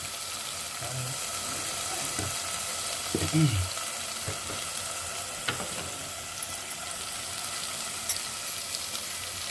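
Oil bubbles and sizzles in a pan of Mysore-style pulihora masala as it is stirred, a steady close frying hiss with a few scattered scrapes and soft knocks of a spoon.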